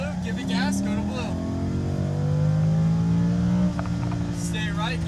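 A Lamborghini Huracan accelerating on a track, its engine drone rising and holding in steady pitch sweeps, with a driving instructor talking over it throughout.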